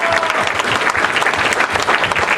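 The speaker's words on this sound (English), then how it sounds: "we're going to cheer extra loud for Assad" A convention panel audience at Fan Expo applauds for artist Esad Ribic, a dense, loud, continuous wash of clapping from a crowded room with faint cheering mixed in.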